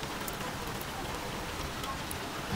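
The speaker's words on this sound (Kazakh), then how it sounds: "Жаңбырдың басылғанын күтіп отырмыз, жұмысты аяқтау үшін." Steady rain falls outside while the welded areas of a VAZ 2114 are being treated, a continuous even hiss of drops with no voices.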